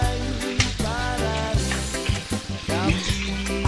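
Onions sauté in a pan while cooking pork binagoongan, sizzling close and loud with bursts of stirring and scraping, and a voice speaks over the cooking.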